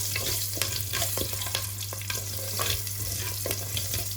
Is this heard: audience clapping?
no